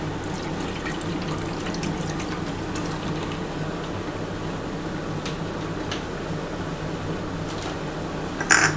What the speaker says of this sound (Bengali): আর সামান্য অল্প একটু জল দিয়ে দিচ্ছি।